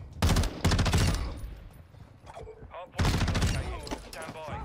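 Bursts of rapid automatic gunfire in Call of Duty Modern Warfare 2, two loud close volleys separated by a quieter stretch, with a voice speaking in between.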